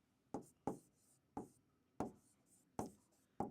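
Math notes written by hand on paper or a board: six sharp, evenly spaced strokes and taps in a slow rhythm, close and fairly quiet.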